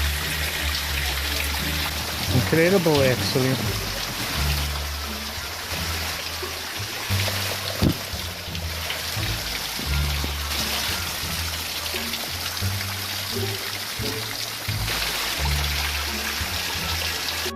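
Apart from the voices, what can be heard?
small waterfall trickling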